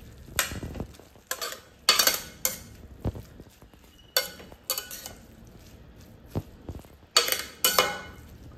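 A spoon stirs fenugreek leaves with moong dal, peanuts and salt in a pan. Irregular scrapes and clinks of metal against the pan sound up close, with soft sizzling between them and no talking.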